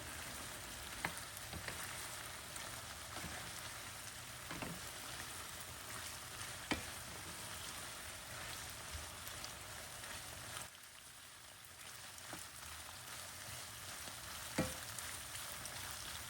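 Onions fry in oil in a pan, a steady close sizzle with occasional stirring taps and scrapes. The hiss drops briefly partway through, then picks back up, and no one speaks.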